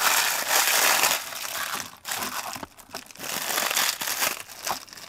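Plastic packaging holding silicone ball-shaped molds for epoxy resin crinkles and rustles loudly up close as it is opened, with continuous crumpling bursts and brief pauses.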